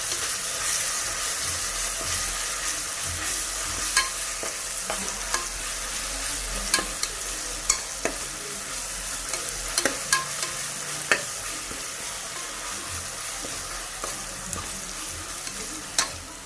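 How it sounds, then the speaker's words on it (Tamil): Ginger garlic paste sautés in a pan for mutton curry, a continuous close sizzle broken by sharp scraping clicks of a stirring spoon against the pan, with no talking. "இஞ்சி பூண்டோட பச்சை வாசனை போகிற அளவுக்கு வதக்கிக்கலாம்."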